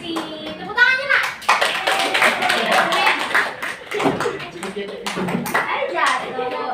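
Schoolchildren clapping in an Indonesian classroom during a practice teaching lesson, a lively burst of many small hands with quick uneven claps, mixed with children's voices and chatter throughout.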